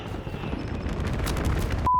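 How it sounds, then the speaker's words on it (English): A bomber killstreak strike in Black Ops 6 bombs the map with a dense, continuous rumble of explosions and gunfire. It is loud and sustained, then cuts off abruptly into a short steady tone. "let's just call in the bomber. Just bomb the map."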